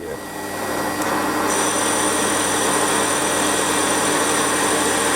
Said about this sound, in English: this stainless bar actually machines really nicely